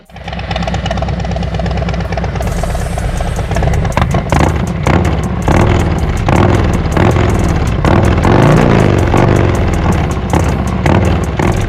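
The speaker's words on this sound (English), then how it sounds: "The bike sounds amazing in sport mode." A 2024 Harley-Davidson Road Glide or Street Glide motorcycle engine runs in sport mode, a loud, close, throbbing V-twin rumble that idles evenly at first and then revs in repeated pulses.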